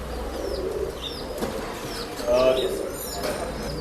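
A male pigeon being released flaps its wings in a short flurry, close and brief, among soft cooing and chirps from other pigeons, with someone talking.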